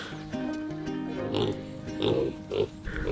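Duroc and Berkshire pigs on a farm give a few close, low grunts and snorts in short bursts over a steady background hum, with faint voices.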